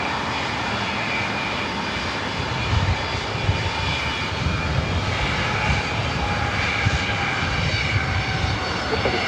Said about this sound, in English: It's a 25-year-old 767-300ER heading to JFK.